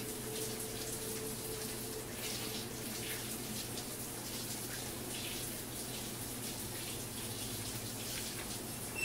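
Hot shower water pouring nonstop in the video game Life is Strange 2, a steady broadband hiss over a low droning hum, unchanging for the whole stretch.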